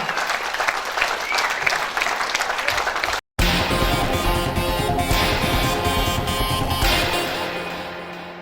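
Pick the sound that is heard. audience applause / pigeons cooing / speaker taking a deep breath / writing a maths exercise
audience applause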